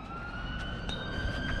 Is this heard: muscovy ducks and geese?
no